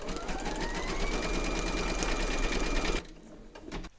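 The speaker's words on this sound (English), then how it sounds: "Load your thread colour for the note into your machine and then stitch round number seven" An embroidery machine stitching black thread runs steadily with a fast, even whirring chatter for about three seconds, then stops abruptly, leaving quiet room sound.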